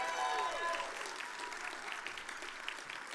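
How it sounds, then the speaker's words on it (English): At a hockey hall of fame induction celebration, an audience breaks into applause with a few cheers and whistles early on, the clapping settling into a steady patter that slowly fades. "That's probably the easiest round of applause I will ever get."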